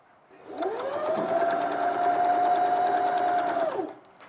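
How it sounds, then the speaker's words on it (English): A sewing machine stitches fabric in a steady, fast whirring run of about three seconds, rising in, holding an even hum, then winding down, close and clear with no talk over it. "while you're stitching that"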